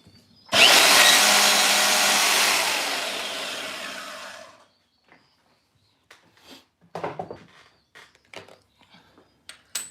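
Bandsaw cutting steel roll cage tubing, a loud, close, continuous grinding screech lasting about four seconds and then fading out, followed by scattered clanks and light handling noises.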